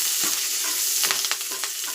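Curry leaves and chillies crackle and sizzle in hot oil for South Indian beans sabji, a steady close frying hiss broken by several sharp pops and spits, with no voices.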